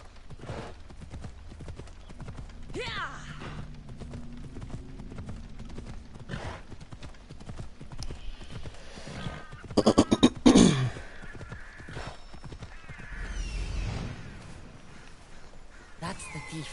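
Horse hooves clip-clop at a steady trot or gallop through an Assassin's Creed Odyssey game world, fairly close and continuous, mixed with game ambience, a brief whinny and a voice speaking over it.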